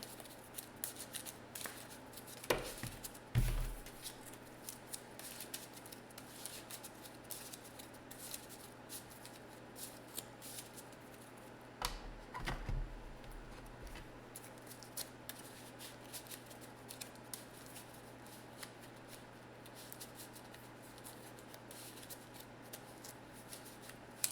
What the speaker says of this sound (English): Shuffle the villain deck here.